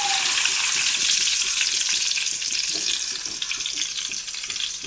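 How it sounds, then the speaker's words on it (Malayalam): Catfish fries in hot oil in a cheenachatti pan, giving a loud, dense sizzle that crackles steadily and eases slightly toward the end, with no voices. "അപ്പോൾ നമുക്ക് ഇതിലേക്ക് നമ്മുടെ ഒരു മുഷിക്കുട്ടനെ പതുക്കെ ഇറക്കി അങ്ങ് വെച്ചെടുക്കാം."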